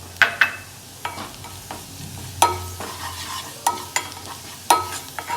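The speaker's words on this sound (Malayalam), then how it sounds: "അതൊന്ന് സോട്ട് ചെയ്ത് കൊടുക്കാം." Potato and garlic mixture sautéing in a pan: a steady low sizzle broken by a series of sharp utensil scrapes and clacks against the pan, loud and close, with no voices.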